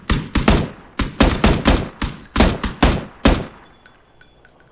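Loud, close bursts of gunfire in PUBG, about a dozen sharp shots in an uneven rapid rhythm, then a few fainter distant pops as the firing trails off.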